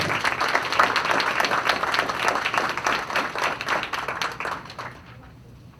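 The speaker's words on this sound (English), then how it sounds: "Please, a round of applause for this team that made tonight" Audience applause at a Forest Hills Public Schools Board of Education meeting, many hands clapping steadily and fairly loud for about five seconds before fading out; a voice may be faintly present.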